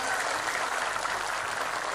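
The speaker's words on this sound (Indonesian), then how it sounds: "tepuk tangan sepindah mali" An audience at an Islamic sermon gathering in Sukorejo, Ponorogo claps together, a brief, even burst of steady applause filling the space without anyone speaking over it.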